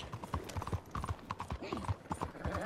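Horse hooves trot on ground in Red Dead Redemption 2, a steady rhythmic clip-clop close by, moderately quiet, with a brief snort-like sound midway.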